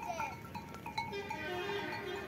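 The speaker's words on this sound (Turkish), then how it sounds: "Kuzular büyüyor." Lambs bleat nearby, a few thin wavering calls over a steady outdoor background.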